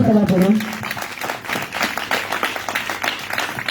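A congregation applauds during a Pentecost celebration service at a church in Korhogo. Dense, steady clapping fills the room, with a voice heard briefly at the start.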